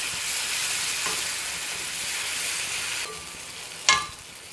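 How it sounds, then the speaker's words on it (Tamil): A ground spice paste sautéing in hot oil, a steady close crackling sizzle that softens partway through, then a sharp clack of a utensil near the end. "அதில் அரைச்சி வச்ச விழுதை சேர்த்துருக்கேன் பாருங்கள். நல்லா சிம் பண்ணி வதக்கிடலாம்"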